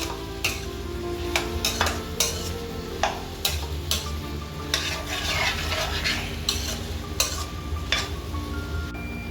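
Partly cooked rice being mixed with prawn biryani masala in a pot, repeated sharp metal spoon knocks and scrapes against the vessel in an uneven rhythm over a low sizzling bed, close and clear with no voices.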